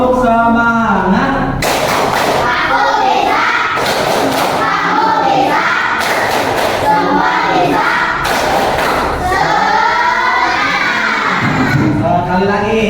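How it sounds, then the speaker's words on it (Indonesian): Schoolchildren in an Indonesian classroom perform the tepuk semangat chant, loud sharp claps landing in a steady rhythm with shouted voices, the whole group chanting together close up. "Baik anak-anak, kita lakukan tepuk semangat."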